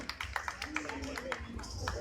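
Scattered applause greets an award winner at a Thai temple festival ceremony, with sparse, uneven claps heard faintly beneath an announcer talking over a loudspeaker.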